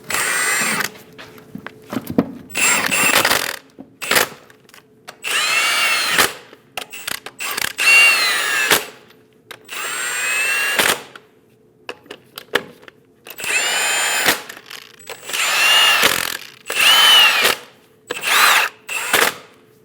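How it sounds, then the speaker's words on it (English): Lug nuts being run down on a 2001-2006 Chevrolet Silverado 2500 HD wheel with a power tool, heard as a series of loud, close whirring bursts separated by short pauses, with ratcheting clicks between them. "Install all the lug nuts. Snug down all the lug nuts."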